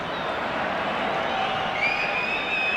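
A football crowd roars and murmurs continuously at a Finland v England match, a broad steady swell of many voices urging players on, with some whistling over it.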